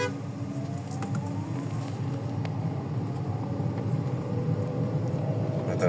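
A small BAW car on a test drive gives a steady, moderately loud road and engine drone from inside the cabin, a low continuous rumble with a faint rising whine, no talk.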